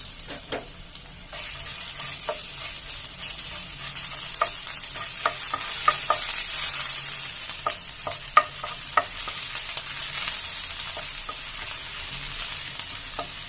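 Garlic paste frying in a pan for star fruit pickle, a soft continuous sizzle with occasional stirring clicks and scrapes, fairly quiet and close, with no talking.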